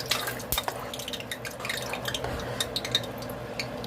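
Hot sauce being stirred into pork chops in a pan: soft scraping and clinking of a utensil against the pan with light liquid sloshing, steady and close, with no talking.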